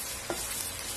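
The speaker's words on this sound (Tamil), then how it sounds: "நல்லெண்ணெய்ங்கிறதுனால இப்படி பொங்கி வருது" Onion, garlic cloves and curry leaves frying in sesame oil for paruppu urundai kulambu, a steady soft sizzle with a light stirring scrape near the start, heard alone.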